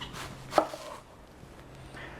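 A knife cutting a cabbage into quarters, one close crunchy chop near the start with a short rustle of leaves before and after, then quiet.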